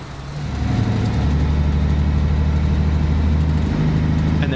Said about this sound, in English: And the engines sound really good in this game too.